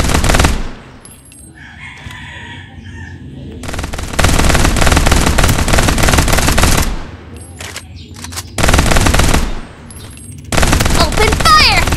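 Rapid automatic gunfire from the Farlight 84 mobile shooter game comes in long loud bursts separated by short pauses, with brief voice lines between the volleys.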